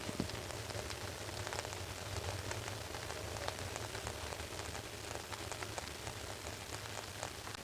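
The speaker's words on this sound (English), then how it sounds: "still sizzling away, dehydrating these tomatoes" Open tomato tart with dehydrating tomatoes cooking gently in a woodfired oven at just over 100 degrees, giving a faint, steady, crackling sizzle like light rain, continuous and soft with no voices.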